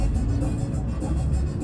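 Noisy buses and road traffic rumble steadily and close by, a dense, continuous engine drone with no pauses.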